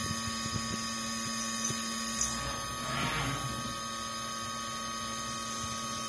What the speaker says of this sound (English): So now it's just drilling the next lot of holes.